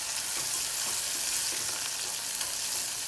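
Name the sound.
sautéing sundakkai (turkey berries) in a pan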